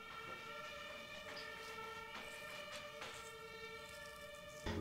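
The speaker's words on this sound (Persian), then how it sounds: "آمبولانس، باز آمبولانس اومد." An ambulance siren passing at a distance: a faint but steady electronic wail that holds its pitched tone throughout over a low street background, with no voices.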